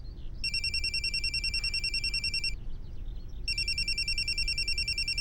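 An electronic telephone ringtone trills in two long bursts with a short gap between them, loud and close over a low background rumble.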